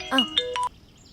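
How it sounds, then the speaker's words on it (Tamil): A phone's ringtone sounds with a short run of bright electronic chime notes lasting about half a second. It is fairly loud and close, and nothing else is heard after it stops. "தாட்சாயணி ஆண்டி ஃபோன் பண்றாங்க."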